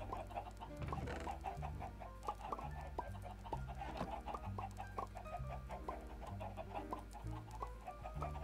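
Minecraft chickens cluck repeatedly at close range over a soft, steady musical background, the short clucks recurring in an uneven rhythm.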